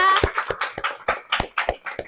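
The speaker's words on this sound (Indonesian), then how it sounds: "Oke, tepuk tangan semua." A group of students claps in a classroom in a quick, even rhythm of about eight sharp claps, with voices chanting along under the beat.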